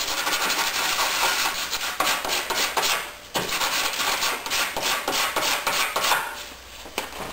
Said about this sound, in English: Always check your edge with sandpaper.